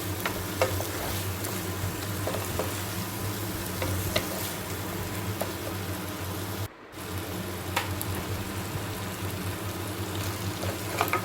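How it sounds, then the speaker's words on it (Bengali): Capsicum being stirred into a spiced paneer masala in a pan, a steady close sizzle with scraping stir strokes running throughout, briefly cut by a moment of near silence midway. "ক্যাপসিকামগুলো দিয়ে মেখে নিয়ে এখন এর মধ্যে পনিরগুলোকে দিয়ে দেবো"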